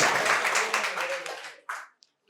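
A crowd at a quiz competition at a medical college in Santiniketan bursts into dense, loud clapping for a correct answer, fading out after about a second and a half into a few scattered claps.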